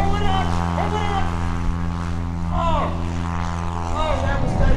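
A single-engine aerobatic comedy plane at the 2017 Greenwood Lake Airshow, its propeller engine droning loud and steady with pitch shifting up and down as power changes, under a commentator's talk.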